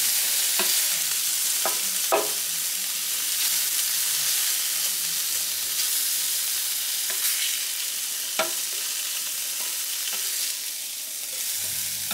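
Hash browns frying on a Blackstone E Series griddle, a steady broadband sizzle running throughout with a few sharp scraping clicks of a spatula, close and fairly loud, no voices.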